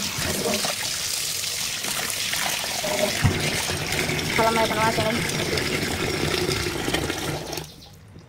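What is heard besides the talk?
water running while soaking meat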